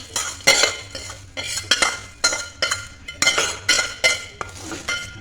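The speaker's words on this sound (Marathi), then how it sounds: "कढईमध्ये पण थोडस चिरमुर टाकायचं" Puffed rice is stirred in a metal wok with a spoon, giving repeated scraping and clinking strokes at a steady rhythm, close and fairly loud, with no talk.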